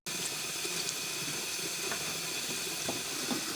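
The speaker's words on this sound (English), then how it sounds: "Transition with the water running, sound like the drill." A tap runs steadily in a TV drama scene, a continuous hiss of water spraying into a sink, moderately quiet and unbroken, with faint clinks beneath it.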